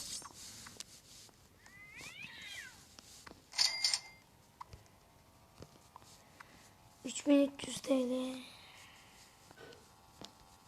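A short, high cat meow rises briefly from the background during Minecraft gameplay, followed by a couple of louder tonal squeaks amid faint clicks and murmuring.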